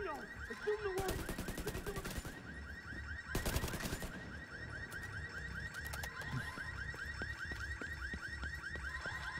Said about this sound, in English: This guy shooting at me.